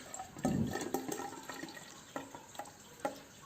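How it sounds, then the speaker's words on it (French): Water poured from a container into a graduated measuring cylinder to measure 100 ml, a soft splashing trickle at close range followed by a few faint drips and light knocks of glass. "Je vais maintenant mesurer 100 ml d'eau."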